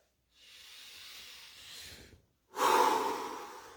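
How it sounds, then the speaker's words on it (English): A deep breath during a meditation session: a long, soft, airy inhale close to the mic, a short pause, then a louder, fuller exhale. "Take a deep breath."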